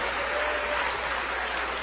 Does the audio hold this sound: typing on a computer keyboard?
no